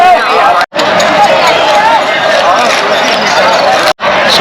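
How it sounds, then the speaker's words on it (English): Dense crowd chatter fills the riverside ghats of Har Ki Paudi before the Ganga aarti, a steady, loud hubbub of many voices broken by two brief dropouts. "Look at the crowds."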